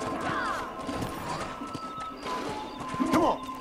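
A horse in Red Dead Redemption, with clip-clopping hooves and a short whinny in the game, close and fairly loud, with faint voice-like sounds mixed in.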